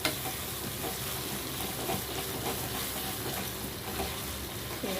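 Garlic and chilli chutney simmers in a pan with a steady, bubbling sizzle that goes on without pause, with no voices.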